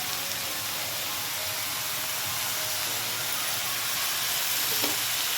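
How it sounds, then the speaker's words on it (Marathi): Chopped onion sizzling in oil in a pan for chicken masala, a steady, even hiss close by with no voices. "कांदा हलकासा भाजला की थोडं तेल टाकायचं त्याच्यात"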